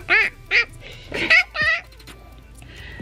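A toy rubber duck squeaks out several quacks in a short irregular series, fairly loud and close, with a quieter squeak trailing at the end over a low room hum; a voice can be heard faintly.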